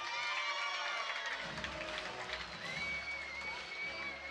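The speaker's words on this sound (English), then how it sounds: "Let's hear it for Nico Lozada" Crowd noise at a TCB 43 MMA event, a loud, steady wash of cheering and shouting from a packed audience filling the whole stretch, with voices audible within it.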